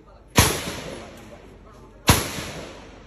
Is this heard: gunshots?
yes